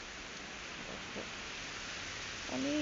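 Heavy rain falls outdoors as a steady, faint, even hiss with no breaks. It is heard mostly alone, and a brief voice comes in at the very end.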